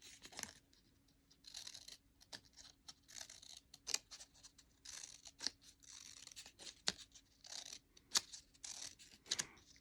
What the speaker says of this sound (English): I just snip and move my scissors